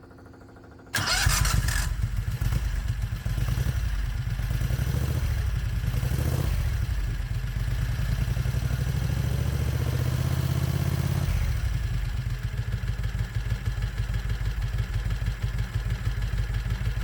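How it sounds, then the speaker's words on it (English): A Predator 670 cc engine with a modified camshaft and the compression release removed cranks and catches, then keeps running at a loud, steady, close-up idle with a rapid clattering beat and no voices. "let me start the engine"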